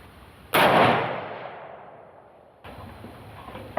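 A single loud .308 hunting rifle shot cracks sharply, its blast decaying over about two seconds, followed by quieter outdoor noise.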